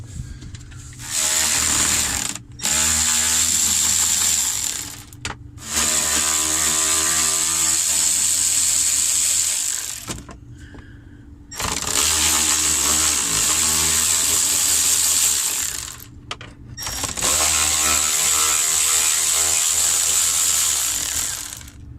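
A powered ratchet removes bolts from the dash of a Ford F150. Four loud bursts of motor whine, each lasting a few seconds, are separated by brief pauses, with no talking.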